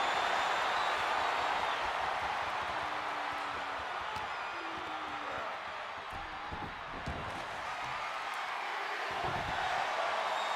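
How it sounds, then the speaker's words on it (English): A dense crowd roars steadily in a WWE 2K23 wrestling arena, a constant wash of cheering and screaming with a few faint thuds underneath and no talking over it. "you hear the crowd screaming, "We want Maple.""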